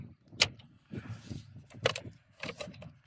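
An MG ZS EV electric SUV being unlocked and opened, with a sharp unlock click, a short mechanical whir, then further door-latch clicks and handle clunks spaced over a few seconds, close by with no talking.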